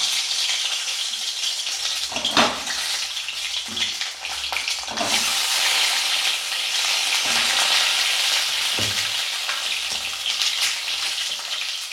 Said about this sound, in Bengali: এখন ওর মধ্যে আমি ডিমগুলো দিয়ে এগুলোকে ভালো করে ভেজে নেব।